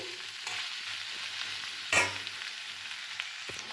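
Chickpea curry masala sizzling steadily in a pan, a soft continuous fry with one brief louder scrape of stirring midway and a faint tap near the end.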